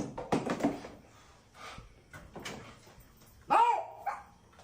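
A dog that has been trying to bite gives a few sharp barks in short bursts, then a rising, drawn-out whimper, heard close with quiet gaps between sounds and no talking.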